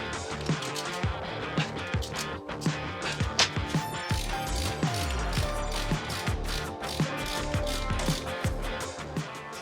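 A vintage brake drum wheel turning during a brake repair, giving close rhythmic mechanical clicking and ratcheting scrapes with intermittent metallic ticks and some low thumps, steady throughout with no talk.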